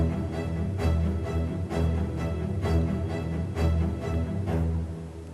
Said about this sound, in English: spiccato strings courtesy of Spitfire.